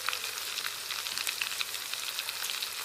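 Cumin seeds and black pepper hitting hot oil, producing a soft, steady sizzle dotted with quick crackles and pops, fairly quiet and close.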